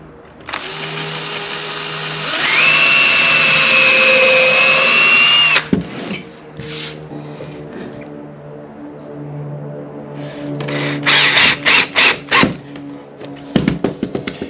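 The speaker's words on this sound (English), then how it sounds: "Let's just pre-drill this bottom one" A power drill whirs loudly for a few seconds, winding up and down, then short bursts of pre-drilling and driving screws into timber follow after a quiet pause, close and harsh.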